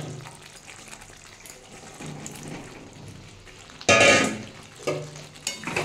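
Fried green jackfruit is tipped into a hot pan of cooking masala, setting off a sudden loud sizzle that fades, followed by scraping and stirring sounds close up.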